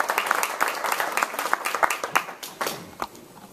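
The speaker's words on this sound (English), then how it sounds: "So if we could give them a round of applause for that." An audience at the Seattle Paid Sick Days Forum applauds with a burst of irregular clapping that thins out and fades over a few seconds.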